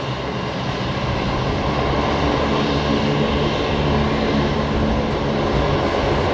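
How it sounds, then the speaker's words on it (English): A Qantas Boeing 737 in from Sydney lands at Brisbane with a loud, near, unbroken engine roar that stays steady and powerful for several seconds. "Right, this is Qantas 528 coming in from Sydney."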